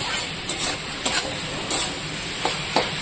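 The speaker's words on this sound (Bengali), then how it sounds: "বাঁধাকপিটা দেখো হয়ে এসছে, আর একটু নাড়াচাড়া করে আমি নামিয়ে নেব" Cabbage fries in a pan with a steady hiss while a spoon stirs and scrapes it, giving several distinct clinks and scuffs over the sizzle.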